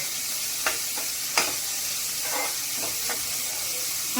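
Two large onions frying in a pan for veg biryani, with a steady sizzle and hiss and a few brief stirring scrapes.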